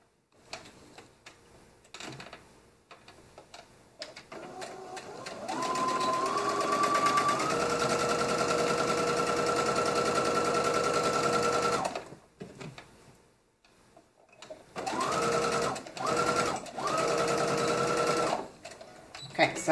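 A sewing machine hems the side seams of a maxi dress in two long continuous runs, the motor's steady whine rising in pitch as it speeds up, with brief stops and quiet handling noise between passes.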